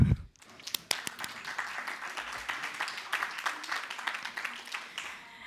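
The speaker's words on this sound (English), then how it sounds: "let's welcome them with a round of applause." An audience at a water and climate panel event breaks into applause welcoming panelists, a room of clapping hands that rises quickly and stays moderately loud, with sharp individual claps standing out.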